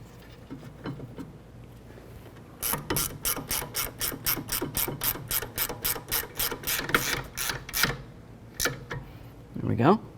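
Ratchet turning brake caliper bolts on a Nissan Altima, a close run of about twenty quick, evenly spaced clicks, with a short voice at the end.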